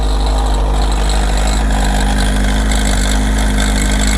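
A Kawasaki ZR7S motorcycle engine idles steadily with a suspected cam chain noise from the middle of the cylinders, a loud continuous low rumble with a mechanical rattle layered on top, no voices.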